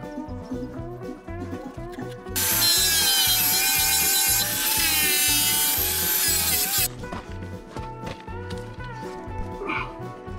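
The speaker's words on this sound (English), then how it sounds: "So I start by cutting out around the rust and cleaning up the general area with a flap disc." A flap disc grinds away rust while cleaning up metal, a loud harsh whining burst lasting about four seconds over a steady rhythmic background.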